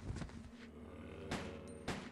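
Gunfire from the video game Resident Evil Code Veronica X, three sharp shots spaced across a couple of seconds over a low game soundtrack, moderately quiet.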